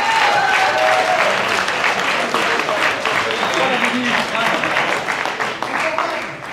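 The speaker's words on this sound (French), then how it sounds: "un tonnerre d'applaudissements pour nos juges qui sont devant nous ici" Loud, sustained applause fills a French eloquence competition final as the audience claps for the judges seated in front of them, a dense continuous roar of hands with voices mixed in.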